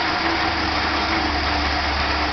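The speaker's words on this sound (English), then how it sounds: "The engine's just about out of fuel." A car engine running on a water and fuel mix idles steadily at low revs, a continuous near hum with a faint whine, nearly out of fuel, with no talk over it.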